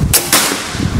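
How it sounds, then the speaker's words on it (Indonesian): A Predator double manometer air rifle loaded with BST pellets fires a single shot: a sharp close crack, then a second quick snap, against a faint background hiss. "Ini kita coba untuk tembakan pertama"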